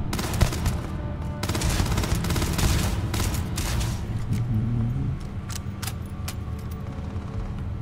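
Rapid gunfire bursts from a firefight in the space game Starfield, dense and loud for the first few seconds, then thinning into scattered single shots against a steady background rumble.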